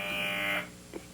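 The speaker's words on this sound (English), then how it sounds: "There's a buzzer gone off in our apartment." An apartment buzzer sounds as a steady, fairly loud electronic tone for about half a second and then cuts off, followed by a brief soft knock in an otherwise quiet room.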